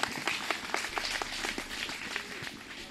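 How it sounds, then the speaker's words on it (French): A gathered audience claps in a steady, fairly faint burst of applause, with some individual claps standing out against the continuous patter. "Il faut l'applaudir fortement."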